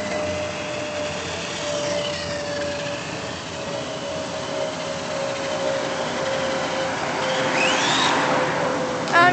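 A Tamiya RC car with a brushed motor runs at around 15 miles an hour, giving a steady, quiet whir of motor and rolling wheels that swells slightly near the end, with a high whine rising briefly.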